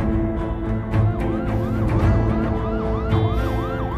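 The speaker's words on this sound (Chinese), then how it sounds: "救护车来了，" An ambulance siren wails loud and close, its rising and falling tone repeating in quick cycles over a dense bed of traffic and engine noise.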